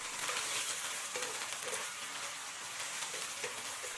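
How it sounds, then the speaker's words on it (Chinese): Marinated beef slices stir-frying with chili pieces and minced garlic in a wok, a dense, even hiss of hot oil that is fairly faint, with only a few soft scrapes of the spatula. "倒入腌制好的牛肉片炒至，翻炒均匀"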